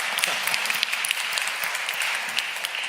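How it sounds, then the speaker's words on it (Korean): A church congregation applauds the praise team, a steady dense patter of many hands clapping close by, with no voices over it. "찬양단도 위해서 박수 한번 할까요?"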